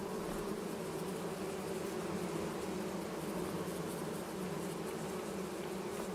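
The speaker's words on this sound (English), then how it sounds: "So our bees... I hear them." Video game bees buzz in a constant, even drone that never lets up, with no voices.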